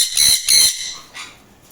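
A male sun conure in an aviary breeding setup lets out two loud, shrill squawks in quick succession close up, followed by a fainter third call.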